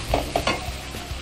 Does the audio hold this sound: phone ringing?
no